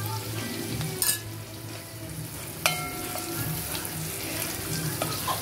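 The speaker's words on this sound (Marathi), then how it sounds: "याला तडका द्यायचा आहे" Spices sizzling in hot oil for a tadka while cooking kadhi, with turmeric and chutney powder added, a steady close frying crackle with a couple of sharp clinks.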